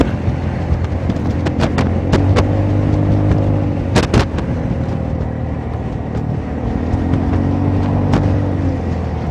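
A Honda Forza 300 scooter with a new engine mount, still being run in, cruises at a steady engine hum around 6,000 rpm. Heavy wind rush surrounds it, with a few sharp clicks or taps partway through.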